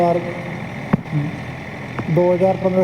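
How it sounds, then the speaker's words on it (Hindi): A Sonalika tractor engine runs at about 2500 RPM while a tiller ploughs a sugarcane field, a steady low rumble heard close by under a voice, with two sharp knocks partway through. "RPM पर चल रहा है ट्रैक्टर, ना तो ज़्यादा लोड ले रहा है"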